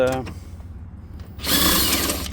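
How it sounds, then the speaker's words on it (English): A ratchet works on the battery bolts of a 2020 Ford Transit 350, a brief burst of rapid mechanical clicking heard up close after a moment of speech. "When you remove the rear bolts"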